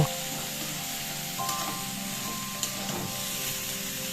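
Potatoes, onion and chunks of ridge gourd fry in a pan with a steady, close sizzle, while a spatula stirs and scrapes through them in a few distinct strokes.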